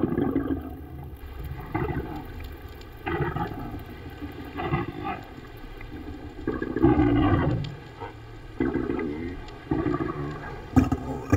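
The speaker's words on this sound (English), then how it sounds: "the minke sounds may be a reproductive call or song" Underwater minke whale calls, a series of loud, low, pulsing bursts and rattling pulse trains repeated every second or two, with faint surface-water noise between them.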